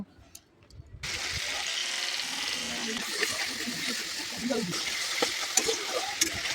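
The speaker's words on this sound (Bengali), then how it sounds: "গুলিয়ে রাখা মশলাটা দিয়ে দেবো এবং কষতে থাকবো যতক্ষণ না তেল ছাড়া হয়" Spice paste of chili, coriander, cumin, salt and turmeric mixed with water, frying in a pan: after a quiet start a loud continuous sizzle begins, with repeated scraping stirs and a few sharp ticks, close up.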